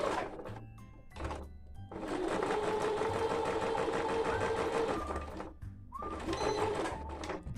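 A sewing machine sews a straight stitch along the edge of a cloth diaper. A few short taps lead into a long, steady, close-up whirring run, followed by a brief backstitch burst.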